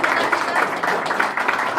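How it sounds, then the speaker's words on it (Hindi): Dense, steady applause fills a hall as an audience warmly welcomes a guest at a blind welfare association award function, with no clear voices above the clapping. "जोरदार ताली से स्वागत है।"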